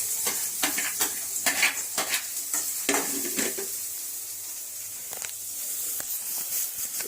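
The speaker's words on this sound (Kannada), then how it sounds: "ಈಗ ಇದಕ್ಕೆ ಸ್ವಲ್ಪ ಹಸಿರು ಮೆಣಸಿನಕಾಯಿ ಸ್ವಲ್ಪ ಈರುಳ್ಳಿ, ಇದನ್ನೆರಡು ಫ್ರೈ ಮಾಡೋಣ." Green chillies and onion sizzle in hot oil in a pan, a steady frying hiss under repeated scraping stirs and clinks of a spatula against the pan, close and moderately loud with no talking.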